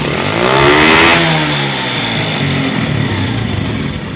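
A bore-up motorcycle engine on a standard carburetor with its air filter opened, revved hard at full throttle: a loud, close roar that swells and peaks in the first second, then holds as a steady high drone.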